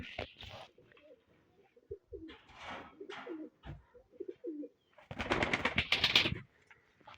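Tumbler pigeons coo softly at close range in short, scattered bursts, with a louder flurry near the end that may be wing flapping.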